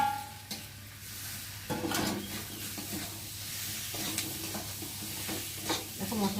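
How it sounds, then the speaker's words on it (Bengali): Ground cumin stirred into spices frying in a pan for a prawn and water spinach dish, a soft continuous sizzle with repeated scraping strokes of a spoon against the pan, close and unvoiced. "তারপরে দেবো জিরে গুঁড়ো, দিয়ে একটু ভালো করে নেড়ে নেব"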